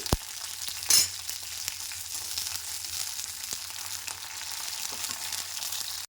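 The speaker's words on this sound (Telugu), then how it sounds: "మిర్చి మంచిగా ఫ్రై చేసుకోవాలండి" Slit green chilies fry in oil for a gongura flower chutney, a close steady crackling sizzle with scattered pops and one sharp clatter near the start, ending in a sudden stop.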